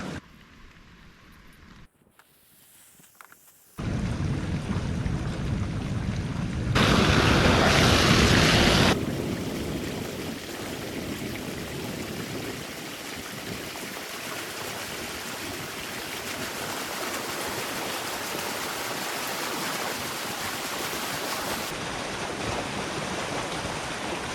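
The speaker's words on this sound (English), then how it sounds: "Even with a lot of debris blocking the entry to the overflow pipe, there's still lots of water moving through it." Water rushes through an overflow pipe whose entry is partly blocked by debris, a loud, continuous roaring gush that starts after a few seconds of quieter noise, briefly surges louder, then holds steady for the rest of the clip.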